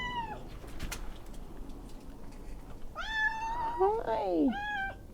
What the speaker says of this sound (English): Steven, there's a cat, come here.